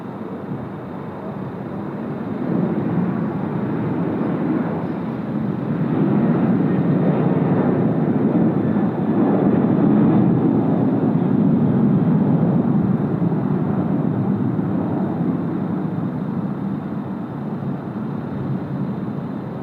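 A Qantas airliner landing on runway 34 left at Sydney Airport with a crosswind, a broad engine roar that swells and stays loud for a long stretch before easing slightly, heard from a distance with no talk.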